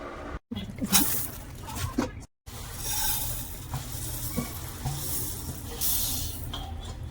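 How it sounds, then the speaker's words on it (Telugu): Masala spices frying in a pan with broad sizzling hiss, stirred in bursts of scraping against the pan, close and steady apart from two brief gaps. "మాడకుండా ఇలా వేయించుకోవాలన్నమాట కలుపుతూ ఉండాలి లేదంటే మాడిపోతుంది"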